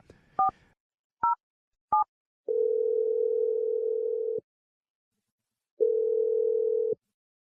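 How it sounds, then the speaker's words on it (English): Telephone keypad tones as a phone number is dialed for a radio show call, three short beeps followed by two long steady ringback tones separated by silence. "We're dialing a phone number"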